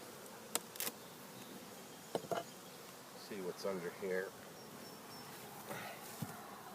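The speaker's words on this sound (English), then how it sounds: "There's quite a few bees in here." Honeybees from a captured swarm buzz softly and continuously around a hive, with a few sharp knocks and a brief spoken voice partway through.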